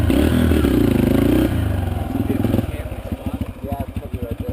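A motorcycle engine runs close and loud in the Rocky Mountains, its steady rumble shifting into a choppy, pulsing idle as the bike is moved, with clattering throughout.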